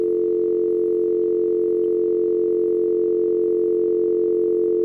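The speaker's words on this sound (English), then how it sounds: "Sound like a dial tone." A steady, loud dial tone on a radio call-in line holds one unbroken pitch with buzzy harmonics for the whole stretch, alone with no voices.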